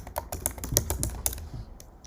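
Rapid keystrokes on a computer keyboard as a command is typed, steady clicking taps heard close and clear with no voices.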